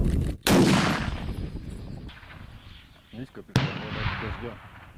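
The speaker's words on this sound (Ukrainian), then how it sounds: "Увага, постріл!" A sharp, loud bang bursts out near the start, followed by a second crack a few seconds later, with voices talking around them.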